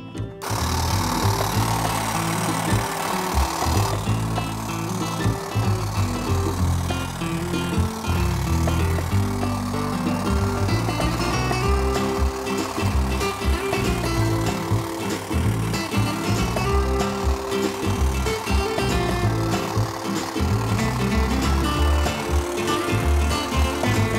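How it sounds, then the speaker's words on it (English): A powered hedge trimmer cuts through a garden hedge during yard work, giving a loud, steady mechanical buzz with rattling that runs without a break for about twenty-four seconds. "And then, we can start trimming this hedge."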